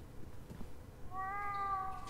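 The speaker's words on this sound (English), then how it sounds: "Oh god, no, not the cat." A cat meows in the horror adventure game The Last Door, one drawn-out, plaintive cry rising out of a quiet, dim ambient bed in the second half.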